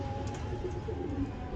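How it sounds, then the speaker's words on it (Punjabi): Pigeons coo softly in a loft, a low, continuous murmuring close by over a steady background hum, with no talking. "ਕਿਆ ਕਬੂਤਰ ਆ ਭਰਾ ਜੀ"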